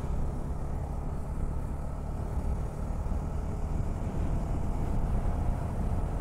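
Heavy road traffic heard from a moving motorbike near Ambala Cantonment, a dense continuous low rumble of engines and wind noise, steady and loud without a break.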